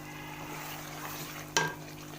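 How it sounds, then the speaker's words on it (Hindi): Chicken and chillies frying together in a pan, a steady low sizzle with one sharp scrape or clink of a utensil near the end, no talking. "मिर्च की भी भुनाई हो जाएगी और हमारे चिकन की भी भुनाई हो जाएगी साथ"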